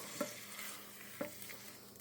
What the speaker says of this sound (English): I'll take the steak, lay it in there, and you can hear it sizzle.